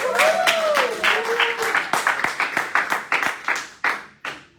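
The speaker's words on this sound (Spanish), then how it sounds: "Aplaude si tienes que aplaudir" A church congregation claps in a loose, rhythmic pattern, separate sharp claps rising and decaying one after another, with a faint sung or spoken voice over the start before the claps thin out and stop.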